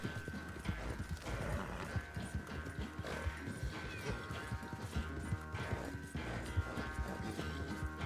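Rhythmic hoofbeats of a galloping horse in Red Dead Redemption 2, during a swamp chase, steady and fairly close, over a busy layer of game music and ambient noise.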